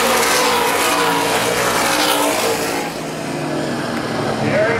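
Late model stock cars roar around a speedway in a Great Lakes Outlaw Late Model Series race at Baer Field, loud sustained engine drone with a slight dip and swell as the cars pass.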